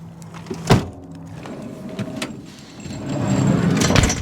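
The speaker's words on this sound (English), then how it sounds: "I'm gonna get these doors closed early" Camper van doors slide and latch shut up close, with a solid thunk early on followed by rolling, rattling motion and a second closing, in a quiet mountain setting.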